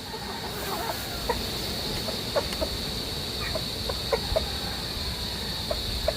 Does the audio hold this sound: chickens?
yes